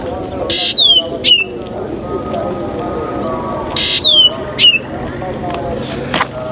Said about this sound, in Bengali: দুটো পাখি ডাকতেছে